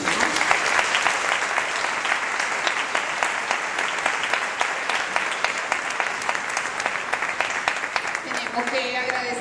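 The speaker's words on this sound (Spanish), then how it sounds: "Vamos a darle un aplauso al Señor." A church congregation applauds at a Pentecost celebration service, steady dense clapping filling the room for several seconds, with voices mixed in beneath and a brief tonal sound near the end.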